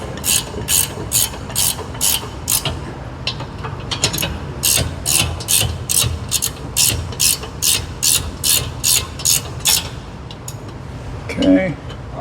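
A gear wrench ratchets on brake line fittings during brake repair, producing close, crisp clicking bursts in a steady rhythm with brief pauses between strokes.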